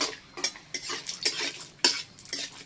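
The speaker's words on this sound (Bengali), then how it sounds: "এবার ভেজে নেব কাজু, হালকা করে" Cashews are lightly fried in a pan and stirred with a utensil: repeated scraping strokes and clinks come about every half second over a quiet background sizzle.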